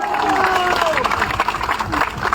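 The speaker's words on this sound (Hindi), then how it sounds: "बहुत जोरदार तालियां बजाओ" Rally crowd of assembled employees at a Delhi pension protest applauding, a broad steady wash of clapping and cheering throughout, with a voice faintly audible over the noise.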